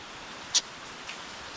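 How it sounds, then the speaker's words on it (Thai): Rain falls in a steady soft hiss outdoors during a fishing trip, faint and even throughout, with one brief sharp tick partway through and no voices. "เราก็ติดฝนจนได้นะครับ"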